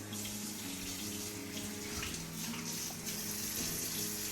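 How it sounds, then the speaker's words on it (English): Tap water runs steadily into a kitchen sink as hands are washed before cooking pasta primavera, a close continuous splashing rush with no talk over it. "So let's get our hands washed good,"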